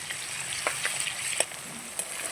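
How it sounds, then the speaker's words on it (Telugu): Onions fry gently on low heat with ginger garlic paste for Hyderabadi bagara baingan, a soft steady sizzle with a few light spatula taps and scrapes, no voices. "ఇవి లైట్ గోల్డెన్ కలర్ వచ్చేదాకా సిమ్లో వేయించుకుందాం"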